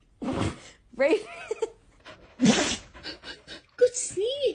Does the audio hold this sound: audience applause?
no